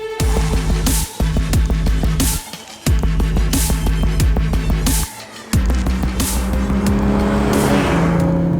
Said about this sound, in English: We are taking our first drive here in the Supra